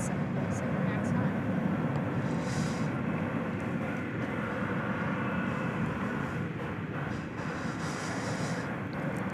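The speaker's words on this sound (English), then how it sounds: "this is the United Airlines 747 MAX 9" United Airlines Boeing 737 MAX 9 engines roar steadily and broadly at DFW Airport at night, a continuous dense rush of jet noise at a moderate distance with no clear break.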